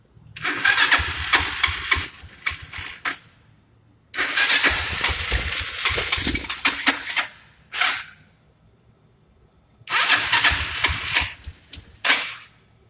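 A China-made 150cc five-speed motorcycle engine, just repaired with carburettor and stator work, cranks and fires in three loud bursts of sharp popping, rapid running separated by silent pauses, as it struggles to keep going after being choked.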